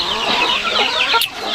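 Young free-range village chickens cluck and chatter close by in a coop, a busy overlapping run of short calls over steady farmyard murmur.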